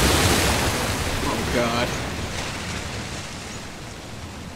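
Broad washing surf of water waves rolls through a scene in the video game Uncharted: The Lost Legacy, loud at first and slowly easing, with a short exclamation from a voice over it.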